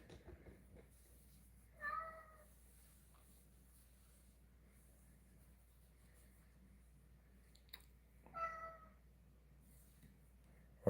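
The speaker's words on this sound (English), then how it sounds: "kitty, I hear you meowing" A domestic cat meows twice in a quiet room, once near the start and again about six seconds later. Each call is short, clear and moderately close over a faint background hum.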